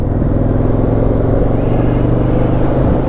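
A tractor rumbles past a motorcycle on a rural back road in Aberdeenshire, a loud, dense low drone of engines close by, continuous and unbroken for the whole moment.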